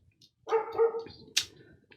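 A dog barks once close by, a single sharp, harmonic bark followed by a brief whimpering tail and a faint yip, with no one talking over it.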